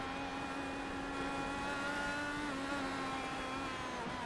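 IndyCar engine held at full throttle in iRacing on the Chicago oval, a sustained high-pitched whine with steady harmonic tones, loud and continuous for the whole stretch with only slight pitch shifts and no talk.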